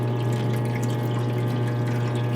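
A parts washer pump sending a steady stream of water, a continuous even rush and flow over a low motor hum, with no talk.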